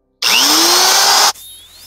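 A loud power tool starts up and grinds steadily for about a second before cutting off and winding down, porting the cylinder heads of a square body Chevy.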